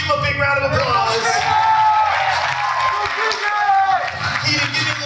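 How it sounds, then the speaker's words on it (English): A high school assembly audience claps and cheers for a volunteer, the crowd noise mixed with background music and a voice talking over it throughout. "Keaton, give him a big round of applause."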